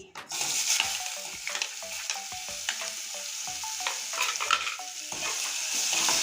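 Sliced onion fries in a pan in a steady, close sizzle, with repeated light stirring scrapes and taps throughout, for a fish and potato biryani.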